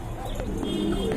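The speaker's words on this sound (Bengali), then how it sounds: "দেখার মতো এক জোড়া কবুতর, আমেরিকান লক্ষা" Pigeons coo softly in a loft of American Lakha and Andalusian-coloured pairs, low murmuring calls repeating close by over steady background noise.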